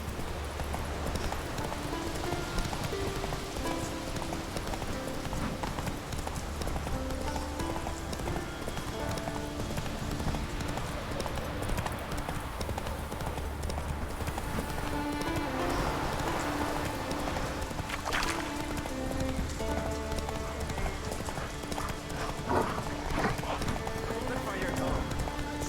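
Roach the horse galloping in The Witcher 3, rhythmic clip-clop hoofbeats running steadily throughout under game music and occasional voices.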